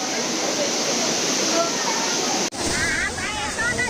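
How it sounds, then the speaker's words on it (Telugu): A waterfall rushes and roars steadily near the Chakra Theertham temple in Tirumala, a dense continuous flow close by; partway through, muffled voices and other sounds join over the constant noise. "బ్యాక్ సైడ్ నుంచి వాటర్ ఫాల్స్ వస్తూ ఉంది"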